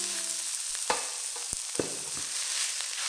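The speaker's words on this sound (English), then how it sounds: "Break up the minced meat as you fry them." Minced meat fries in a pan with a steady hiss and sizzle, broken by a few soft scrapes and knocks as it is stirred and broken up.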